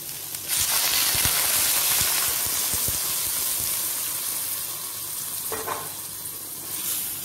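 Sweated onion sizzles loudly in a pan as half a litre of water is poured in, a steady close frying hiss with a brief gush of liquid partway through.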